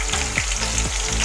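Sliced onions fry in hot oil for biryani, giving a dense, loud, continuous sizzle close up, with a few quick stirring scrapes inside the steady crackle.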